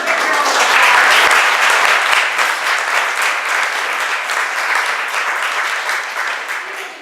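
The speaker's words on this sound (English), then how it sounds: "Give her a big round of applause." An audience at a Sunday spiritual gathering applauds in a loud, sustained round of clapping that swells early and slowly tapers off.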